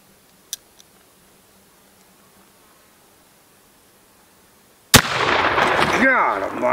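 A single loud, close gunshot from a Sharps 50-140 rifle with a set trigger cracks sharply after several quiet seconds, followed by a long, rumbling boom and echoing tail.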